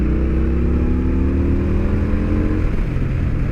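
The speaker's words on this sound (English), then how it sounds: "you will be hearing the stock mufflers I shall say" Indian Scout Bobber motorcycle, fully stock with its original mufflers, rumbling at steady idle close by, a loud, even, deep throb with a faint rise in pitch through the short stretch and no talk.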